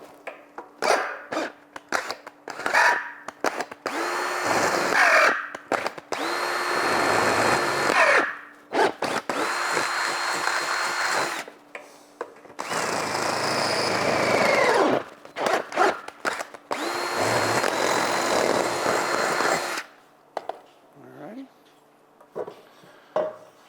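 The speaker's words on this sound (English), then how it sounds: "We're actually going to drill these out real quick because these are just rough cut" Power drill boring 1/4 inch rivet holes through a rough-cut carbon steel skillet part, loud whining bursts of drilling start and stop repeatedly, with metallic clatter and handling noise in the gaps.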